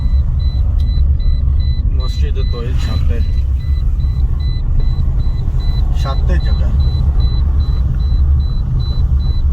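A car driving along a small, narrow road, with a steady loud rumble of engine and road noise throughout and brief voices talking over it now and then.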